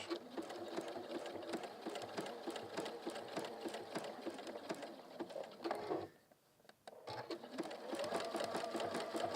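A sewing machine zigzag stitches around the edge of a hemisphere pin cushion in a fast, steady mechanical patter, pausing briefly for about a second before resuming, with no talk.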